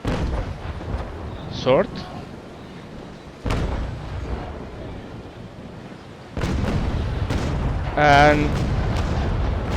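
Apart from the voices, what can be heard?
ship cannon broadside firing in video game Naval Action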